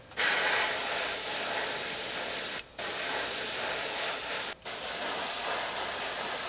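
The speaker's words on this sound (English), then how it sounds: "I'm going to spray the whole side with silver." A steady, close aerosol spray hiss as silver paint is sprayed onto a crankbait fishing lure, running continuously, stopping briefly twice before resuming with the same even intensity.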